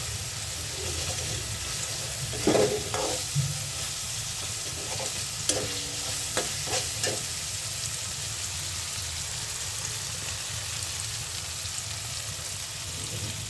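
Fish sautés in a spice paste in a pan, giving a steady close sizzle with bursts of stirring scrapes and clinks in the first half, then settling into an even frying hiss with no voices.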